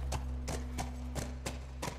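A horse in The Last of Us plods along at a steady walking pace, its hooves clip-clopping in an even rhythm of about six distinct, close hoofbeats over a constant low game hum.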